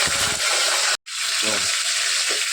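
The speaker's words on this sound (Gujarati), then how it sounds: "લીલા મરચાં બે લાલ મરચાં વઘાર માટે અને મીઠો લીમડો એ નાખી દેવાનો" Green and red chillies and curry leaves drop into a hot tempering of crackled mustard and cumin, setting off a loud, continuous sizzle close by, broken by a brief cut, with a voice talking over part of it.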